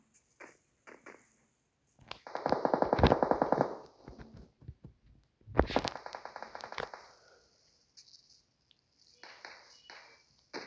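Gunfire in the PUBG Mobile video game: two dense bursts of rapid automatic shots, plus a few isolated single cracks and pings between them, fairly close and sharp.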